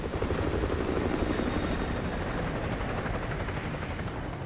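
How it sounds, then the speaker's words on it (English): Helicopter patrolling a perimeter in Modern Warfare 2 Remastered, its rotor thumping in a steady, loud, continuous drone that holds for several seconds with no talk over it. "Enemy helo patrolling the perimeter."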